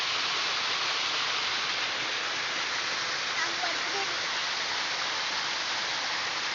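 Water poured into a crab burrow during crab catching outdoors gives a steady, loud, broadband rushing wash that holds evenly for the whole stretch.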